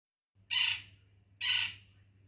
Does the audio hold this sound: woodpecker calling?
yes